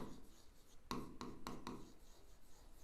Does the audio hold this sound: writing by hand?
yes